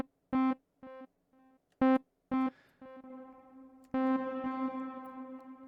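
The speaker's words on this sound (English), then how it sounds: "at the moment we've got a delay and a reverb. We have to turn up the dry wet to hear them." Short synth notes from Arturia Pigments pass through delay and reverb effects, each stab followed by repeating echoes and a lingering reverberant tail, ending in a longer sustained tone that rings out.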